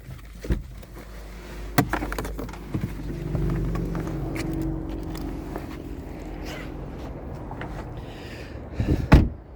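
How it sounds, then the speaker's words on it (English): A 2029 VW Golf GTI Rabbit Edition has its hood released and lifted: a sharp click early on, a scattered knock, muffled rustling and handling, then a loud clunk near the end, all close by with no talking. "Let's pop the hood in the engine bay"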